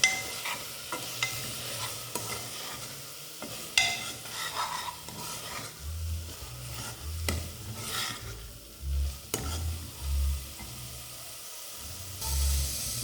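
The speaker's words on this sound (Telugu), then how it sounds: "మనం 1 టేబుల్ స్పూన్ పసుపు అనేది వేసుకుందాం. ఒకసారి అయితే కలుపుకుందాం." Turmeric being stirred into a sizzling mushroom biryani mixture in a hot pan, with repeated scraping strokes and soft low thumps over a steady frying hiss, close and fairly quiet.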